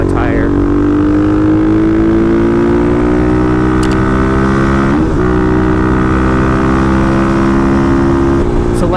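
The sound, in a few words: Kawasaki KLX dirt bike riding through corners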